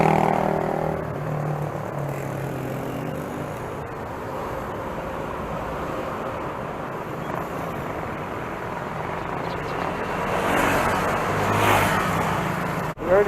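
Early morning road traffic in Novaliches during a bike tour, with a continuous wash of passing vehicle noise and engine whir, and a bus among them, moderately near and growing louder toward the end.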